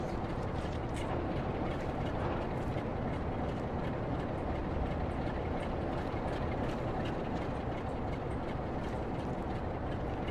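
Class 360 electric multiple unit train in Train Sim World 6, a steady, loud rumble of rolling stock and traction noise that fills the whole stretch with an even, continuous roar.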